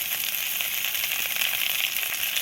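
Spices frying in a pan for methi shak, a steady loud sizzle and crackle of hot oil that runs unbroken from start to end, with no voices.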